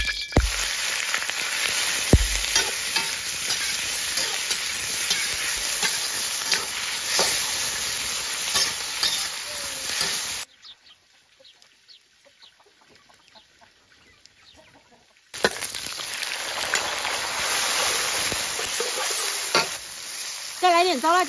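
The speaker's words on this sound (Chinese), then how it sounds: "现在去炒底料。 起锅来一点点油" Hotpot base being stir-fried in a little oil in a wok, a steady loud sizzle with scraping stirs, interrupted by a quiet pause midway before the frying resumes, with roosters clucking in the background.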